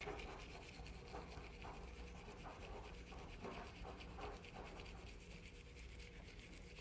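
Steady bristly scrubbing of a toothbrush, a continuous close rasping with short rhythmic strokes throughout, no voices.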